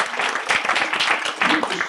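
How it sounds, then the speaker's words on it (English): Audience applause for a university dean at an academic event, a brief burst of steady crowd clapping at moderate volume. "Rio, let's give her a round of applause."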